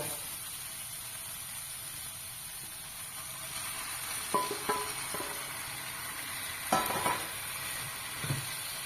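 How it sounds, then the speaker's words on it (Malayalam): Chicken goes into a curry pan of tomatoes already frying soft. A steady sizzle plays throughout, with a few sharp scraping clatters from stirring and no talking. "തക്കാളിയൊക്കെ നന്നായിട്ട് വഴന്നു വന്നിട്ടുണ്ട് അതിലേക്ക് ചിക്കൻ ഇടുക"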